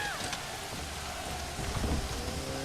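Steady rainfall drums in a medieval kingdom-building game, a dense continuous hiss with low rumbling underneath, even and loud from start to finish.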